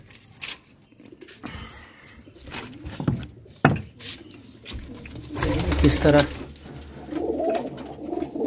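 Pigeons coo in a rooftop loft, among them a four-year-old bird. The soft cooing is mixed with shuffling, a few sharp knocks and patter, and someone speaks briefly.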